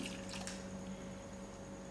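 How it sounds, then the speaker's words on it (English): A cup of water goes into a simmering Durban mutton curry, a short steady trickle and splash heard alone against a constant electrical hum. "I'm going to add in another cup of water to finish the curry off with a thick gravy"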